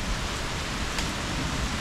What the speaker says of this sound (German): Es regnet, es donnert, es blitzt.